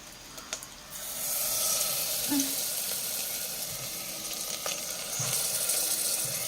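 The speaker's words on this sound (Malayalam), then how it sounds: "ഓ എണ്ണ ചൂടായി. നമുക്ക് മത്സ്യം വെച്ച് കൊടുക്കാം." Sardines go into hot oil in a pressure cooker, and a steady sizzling hiss swells after a quieter start, with a few clinks and scrapes of handling over it. Nobody speaks.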